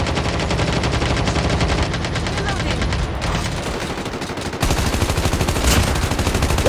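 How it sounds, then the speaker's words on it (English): Rapid automatic gunfire rattles almost nonstop in a Call of Duty Mobile zombies-mode battle against aliens, loud and dense bursts with brief shifts in weapon sound. "just shooting at all these, just shooting at the aliens"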